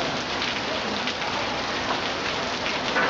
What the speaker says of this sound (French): Il pleut à fond.